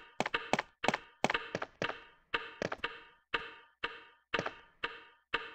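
Loud, sharp video game clock ticking in a steady pattern, clusters of two or three clicks repeating about every half second, close and dry with nothing else behind it, from Resident Evil (1996).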